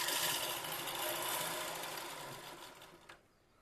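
A pico machine stitching folded cloth, a steady fast mechanical whirr with rattling close up, running continuously before slowing to a stop.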